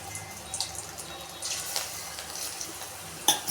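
Pinched pakoda batter drops into hot oil in a home kitchen and fries with a soft, faint crackling sizzle. A few brief louder pops break through.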